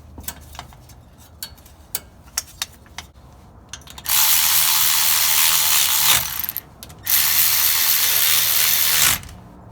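Ratchet wrench tightening the rear differential cover bolts on a Nissan Titan: scattered close clicks first, then two long loud bursts of fast continuous ratcheting, no voices.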